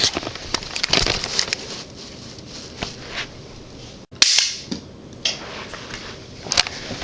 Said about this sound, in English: I'm going to fire it down this hallway to that pillar at the end.